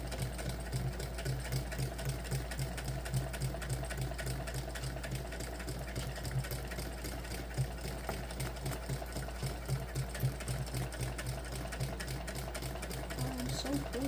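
Home sewing machine stitching the Blossom crossbody bag, a steady fast mechanical whir with rapid needle ticking running continuously at close range and moderate level, with occasional quiet talk over it.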